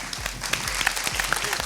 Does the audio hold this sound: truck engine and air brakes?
no